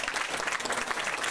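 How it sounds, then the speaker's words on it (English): Audience applause at an elected women's luncheon, a continuous dense patter of many hands clapping in a room, fairly close and even in loudness throughout. "So we applaud her for that."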